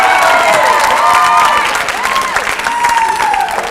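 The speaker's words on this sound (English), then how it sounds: "let's give a round of applause for Matt" Audience at a Mr. MHS 2018 student government pageant applauds and cheers loudly for a contestant, a dense roar of clapping with whoops and a few sustained whistle-like cries running throughout.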